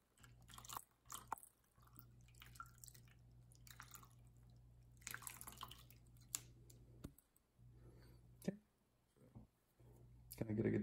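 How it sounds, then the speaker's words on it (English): Bottled water poured over a Rolex or Breitling watch during cleaning, with soft intermittent splashes and drips against a low hum, separated by quiet gaps and a few clicks as the watch is handled. "Kind of rinse it off a little bit."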